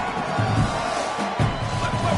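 Huge stadium crowd of Michigan Wolverines fans roaring in EA College Football 27, a steady, dense wall of cheering and screaming that holds loud throughout with brief surges.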